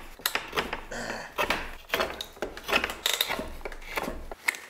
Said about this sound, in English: I'm gonna see if I can use the draw knife to get this bowl